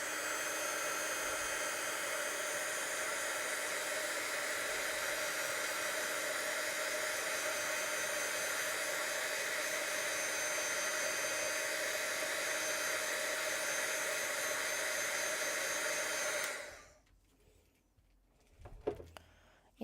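A hair dryer blows loudly and steadily on watercolor paint for about sixteen seconds, then cuts off, leaving quiet room sounds and a brief faint clatter.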